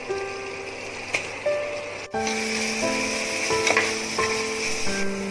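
Ground biryani paste frying with sautéed tomatoes for mutton biryani in a pressure cooker: a continuous close sizzle with a few stirring knocks, over a faint steady tonal background.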